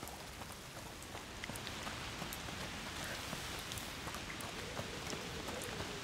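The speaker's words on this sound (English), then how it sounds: "Foul rain." Steady rain pours down in the game A Plague Tale: Requiem, a dense continuous hiss with scattered droplet patters, even and unbroken throughout with no talking.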